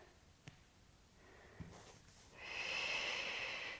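Quiet room during a yoga stretch with a brief faint breath near the start, then a louder, steady airy exhale through the nose or mouth held for over a second near the end.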